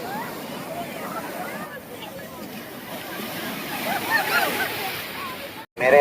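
Sea waves wash onto Calangute beach in Goa, a steady rolling surf that swells louder toward the end, with indistinct voices in the background.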